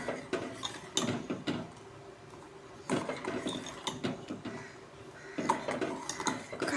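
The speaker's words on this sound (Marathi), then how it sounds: "मस्त ढवळत राहायचं।" A spoon scraping and knocking around a cooking pot of kheer as it is stirred, giving irregular clinks and scrapes in bursts with short pauses, fairly close and moderately loud.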